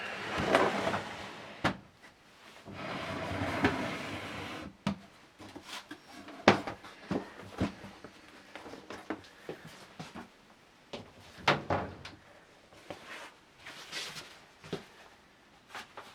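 A drawer in a museum storeroom is pulled open, giving a run of wooden scrapes, knocks and clatters, fairly close and in quiet surroundings with no talk over it.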